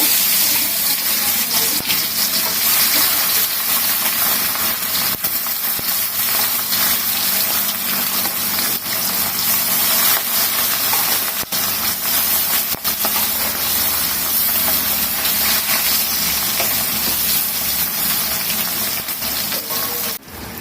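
Fish dropped into hot oil for a home-cooked curry, giving a loud, continuous close-up sizzle. The crackling hiss holds steady for about twenty seconds with small pops and no talking.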